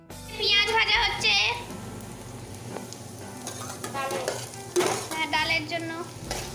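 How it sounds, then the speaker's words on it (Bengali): Onions fry and are stirred in a pan for a picnic party, giving a continuous crackling sizzle with scraping stirs, while people, including a child, talk over it. "পেঁয়াজ ভাজা হচ্ছে"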